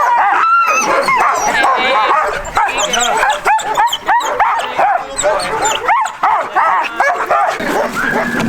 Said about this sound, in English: Everybody, watch out, dogs coming.